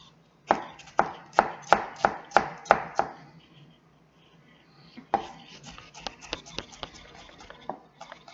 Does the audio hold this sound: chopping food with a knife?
yes